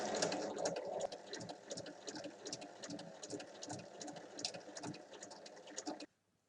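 Sewing machine stitching the seam around a bag, a fast rapid needle chatter that runs steadily for about six seconds and then stops, close and fairly quiet with no talk.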